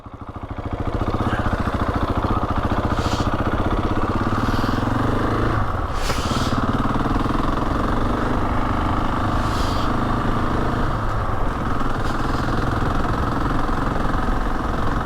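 A Husqvarna 701 Enduro single-cylinder motorcycle engine drones loud and close throughout a winter ride over mountain passes, with a brief dip and swell in revs midway and steady throbbing otherwise, no voices.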